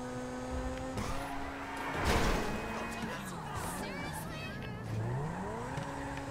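A tuned Turismo sports car drives in the GTA 5 video game, its engine droning steadily with a brief tire squeal and shifting revs, under background music and someone speaking casually.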